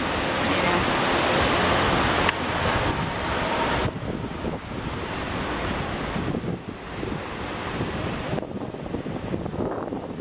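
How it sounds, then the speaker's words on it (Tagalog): Powerful waves crash and surge at Nagtabon Beach, Puerto Princesa, in a steady, loud rush of water, with wind and occasional faint voices mixed in. "Lakas ng alon."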